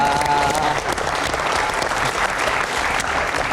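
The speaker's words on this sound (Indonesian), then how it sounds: "Kita kasih tepuk tangan." An audience claps loudly and continuously at a televised Jakarta gubernatorial election talk event, a dense wash of applause with some crowd noise mixed in.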